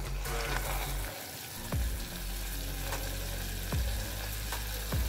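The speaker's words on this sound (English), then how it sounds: "keep stir frying it for 3 to 5 minutes, and our asun is ready" Asun being stir fried in a pan, a steady sizzle and hiss with periodic scraping stirs of the spatula, close up with no talking.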